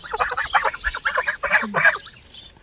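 Several goslings honking and peeping in a quick, overlapping series of short calls, fairly close.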